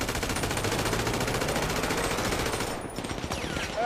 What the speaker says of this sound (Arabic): ارمي عليهم، ارمي